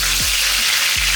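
Mustard seeds, a pinch of cumin and curry leaves sizzle in hot oil, a loud, constant crackling hiss close by, with a couple of dull low thumps from the pan.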